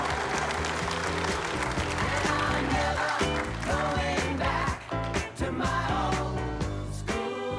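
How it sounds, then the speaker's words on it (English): Audience applause for Dr. Haney fills the room, a dense, steady roll of many hands clapping at close range with music playing underneath, dipping briefly near the end. "How about a big round of applause for Dr. Haney?"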